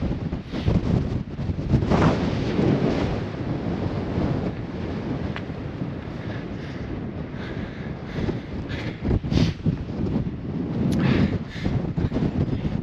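Strong wind buffets the microphone beside a lake in Spain in winter, a loud continuous roar with gusty surges and low rumbling that fills the whole stretch, with no talk over it.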